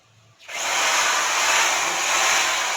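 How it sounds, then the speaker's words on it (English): Handheld grinder spinning up after a moment of quiet, then a steady, loud, high whine held continuously at close range. "I have here a grinder"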